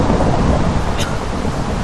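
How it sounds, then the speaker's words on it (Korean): Rain pours steadily and loudly in a Minecraft game played with the Techguns mod, a dense hiss throughout, with a brief crack of thunder rumbling at its midpoint. "빗소리 때문에 총알 소리가 들리지 않기 때문이다 마치 번개도 치다"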